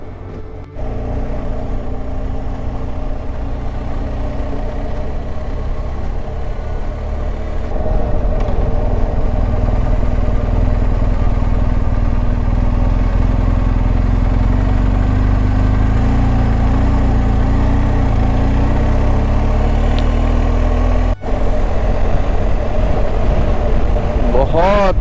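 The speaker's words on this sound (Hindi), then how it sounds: "बहुत शानदार किस्म की ये राइड हो रही है" Motorcycle cruising along a road near Luzern, Switzerland, with a steady loud engine drone and wind rumble that builds slightly and holds throughout, the rider speaking over it.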